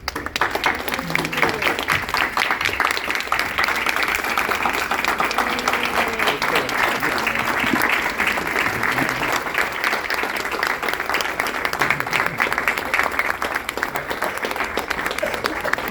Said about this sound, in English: everyone, please join me in applauding these courageous alumni of our